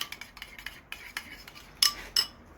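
A spoon mixing boiled potato with two spoonfuls of mayonnaise in a bowl for potato and chicken cutlets, heard as rapid, close scraping and clinking strokes against the dish that grow louder and sharper toward the end.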